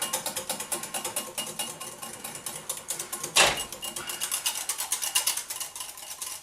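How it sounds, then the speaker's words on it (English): A whisk beats tempered eggs into a hot mixture in a pot, making a fast, even ticking rhythm of close metal strokes. One sharp clank cuts in partway through, then the steady whisking continues. "So just make sure you're whisking."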